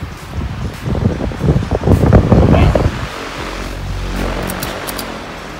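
A loud fan runs in a garage beside a 2013 BMW 328i 2.0 twin-turbo, making a rough, gusty whoosh that swells for about three seconds, then drops to a softer low hum as it is switched off.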